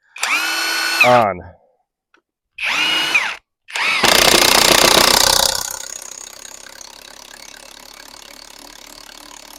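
A Hercules 20V cordless 7/16 in. high-torque impact wrench drills a hole with three separate trigger pulls: two short revving whines, then a loud, sustained grinding burst that fades into a low continuing hum.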